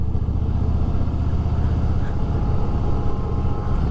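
A Harley-Davidson Fat Boy motorcycle rides through a city early in the morning, its engine a continuous, loud, throbbing rumble heard close up from the saddle without any talk.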